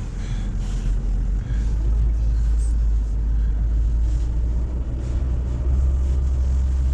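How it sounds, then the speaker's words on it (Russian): Car stuck on a rough forest track in the taiga, wheels spinning as the engine drones at a steady low rumble throughout, fairly loud and without talk. "Вон он тут буксует."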